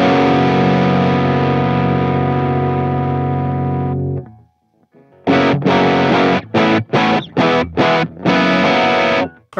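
Loud distorted electric guitar through stereo amp models on a Line 6 Helix, with a long sustained chord fading out, a brief pause, then choppy rhythmic chord stabs, wide and saturated.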